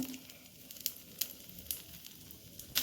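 Oats dosa sizzling in a pan with ghee brushed over it, a low steady hiss broken by a few sharp crackling pops, close and fairly quiet with no voices.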